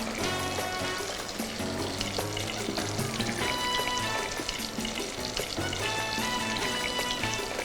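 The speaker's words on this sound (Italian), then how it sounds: "possiamo immergere la fetta di pesce spada. La friggiamo da entrambi i lati fino a doratura" A breaded swordfish slice fries in hot peanut oil, giving a dense, continuous crackling sizzle with small spatters, close and steady throughout with no talking.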